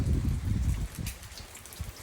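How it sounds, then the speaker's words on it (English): Rain patters in Tenerife as a soft, close, irregular spatter of drops that starts fuller and thins out over two seconds, with no voices. "the pitter patter of the rain"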